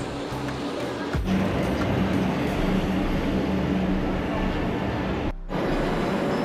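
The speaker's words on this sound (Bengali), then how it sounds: "বিপরীত দিক দিয়ে অন্য একটি ট্রেন ছুটে চলেছে" A loud, continuous rumble of a metro train passing on the opposite track at Dum Dum metro station roars steadily, with a sharp click near the start and a brief cut late on.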